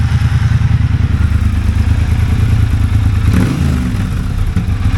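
Triumph bobber motorcycle idling close by on its stock exhaust, a loud, steady, muffled engine rumble with even pulsing throughout and a slight blip partway.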